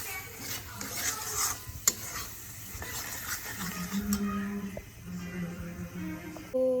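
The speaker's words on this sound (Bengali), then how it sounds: "তো মশলাটাকে নাড়ছি, এরপরে যখন মশলা থেকে তেলটা ছাড়া শুরু করবে" Masala for chicken bharta being stirred in a frying pan, with a soft scraping and sizzling texture that carries on steadily at a moderate level, close by, with occasional clinks of the spoon against the pan.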